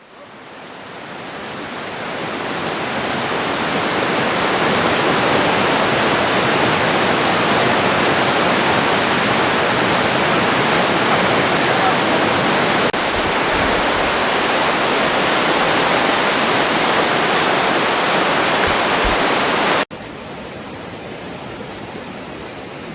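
Waterfall on the Ingleton Waterfall Trail, a steady, full roar of rushing water that swells in over the first seconds and holds loud and constant, dropping slightly near the end.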